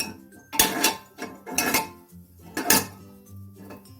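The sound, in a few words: small metal stand placed into pressure cooker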